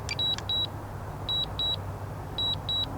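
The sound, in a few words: DJI Mavic Mini drone controller warning beep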